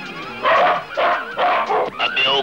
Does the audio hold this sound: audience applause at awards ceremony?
no